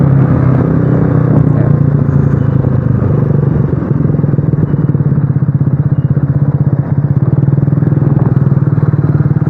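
A motorcycle fitted with a cheap aftermarket exhaust being ridden at speed, its loud, gruff exhaust drone steady and close throughout with a rough, crackling rumble.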